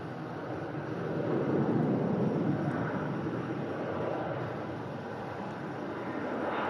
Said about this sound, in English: Now Ryanair on the south side, now departing out to Murcia